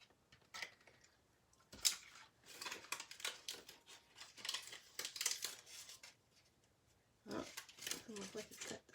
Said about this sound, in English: So I'll just bring my scissors and I'll just fussy cut around that